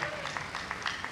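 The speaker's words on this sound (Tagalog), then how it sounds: "Isang malakas na palakpak, papuri sa ating dakilang Diyos na buhay." A church congregation claps during a service, with scattered handclaps pulsing faintly and fairly distantly under background crowd noise.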